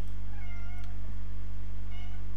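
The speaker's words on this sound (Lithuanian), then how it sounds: "Kažkas atėjo čia katinas" A cat meows twice, clear and fairly close, with pauses between, over a steady low electrical hum.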